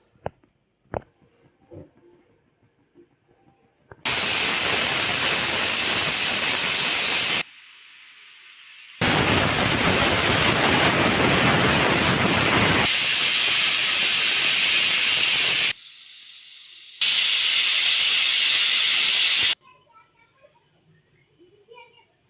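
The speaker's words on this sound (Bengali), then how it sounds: "যখন সিটি আসবে তখন পানি বের হয়ে যাবে" A pressure cooker of masoor lentils vents steam in three loud, sustained hissing bursts with short pauses between them, a faint whistle tone riding on the middle burst, after a quiet start.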